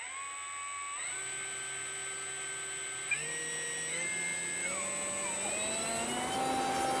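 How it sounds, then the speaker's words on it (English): An electric motor on an E-flite UMX Turbo Timber Evolution RC plane spins its propeller up to full throttle, a whine climbing in pitch in stepped stages and growing louder over a steady background whir. "We're going to make that prop spin."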